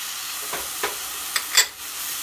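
Homemade frozen tomato paste hitting a hot pan, a soft continuous sizzle broken by a few brief sharper crackles and spits near the middle, quiet and close with no talking.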